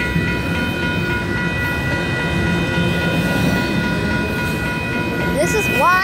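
A Union Pacific train rolls past at El Paso with a loud, continuous rumble and a sustained horn-like tone throughout.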